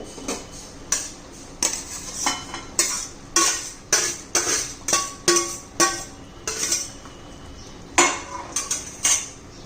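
Fenugreek leaves being stirred in a pan for a Rajasthani-style methi sabzi, heard as a steady series of sharp metal spoon scrapes and clinks against the pan, close and fairly loud, with no talking.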